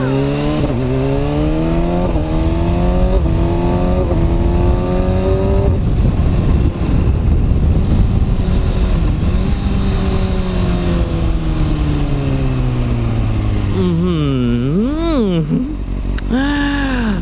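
A Kawasaki ZX6R 636 sport motorcycle with a Yoshimura exhaust revs and pulls through the gears, loud and close, the engine pitch climbing and dropping in repeated sweeps with a final sharp rev burst.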